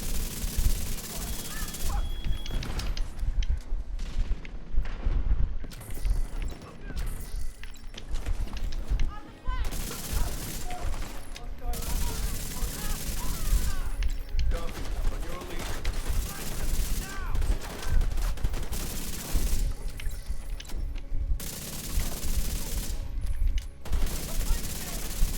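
Rapid bursts of airburst gunfire in an Xbox shooter game, dense crackling volleys repeating in clusters across the stretch with brief pauses between, loud and continuous.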